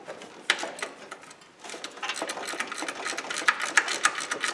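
A ratchet loosens the 9/16 bolts on a Jeep Cherokee belt tensioner bracket during a water pump replacement: rapid, close, steady clicking that dips briefly and then runs busier and louder.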